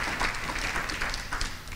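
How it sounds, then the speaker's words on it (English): Applause from an audience at an investment managers forum, a steady dense patter of many hands clapping for the full stretch, moderately loud and without voices. "Please give her a round of applause for everything she's done."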